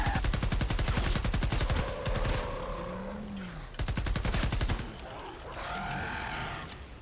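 Rapid automatic gunfire in Fortnite Save the World, firing in two loud sustained bursts of fast, evenly spaced shots separated by a short pause, with game creature growls and effects between them.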